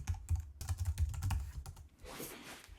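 Quick, light keystrokes on a computer keyboard tap out an irregular burst of typing, close and fairly quiet, then trail off into a soft rustle.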